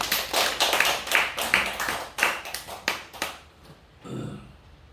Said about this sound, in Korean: 우리 특별히 한번 격려 박수 하겠습니다